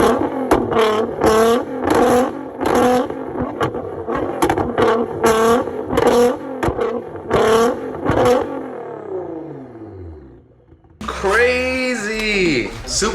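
A Nissan GT-R R35 running on E85 revs hard at night while spitting flames. Close, loud repeated blips of the engine rise and fall, a long rev winds down with a crackle, and a sharp rev bursts back in.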